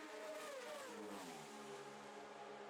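Honda and Yamaha R6 600cc race motorcycles at a road race scream past at high revs, a faint, distant, buzzing engine whine whose pitch falls steadily as the bikes pass by.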